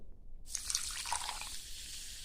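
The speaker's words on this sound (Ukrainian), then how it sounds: "Сто грам сирого маку заливаю водою." Cold water pours steadily over poppy seeds in a container for a couple of seconds after a brief quiet start, with a close, splashy trickling.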